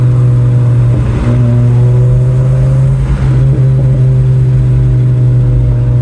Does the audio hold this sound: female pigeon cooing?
no